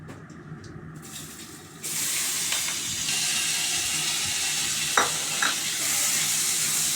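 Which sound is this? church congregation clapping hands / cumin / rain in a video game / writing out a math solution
cumin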